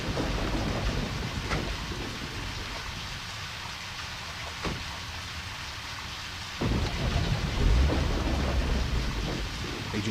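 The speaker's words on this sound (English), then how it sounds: "get my ass out of this rain" Heavy rain pours steadily in the video game Deadly Premonition Origins, with rumbles of thunder rolling in and a louder thunder swell near the end, no voices present.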